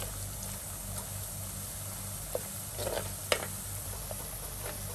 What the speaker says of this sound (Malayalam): നമ്മൾ കട്ട് ചെയ്ത് വെച്ച എല്ലാ ഇഞ്ചി പീസും ഇതുപോലെ തന്നെ നമുക്ക് വറുത്ത് കോരി എടുക്കണം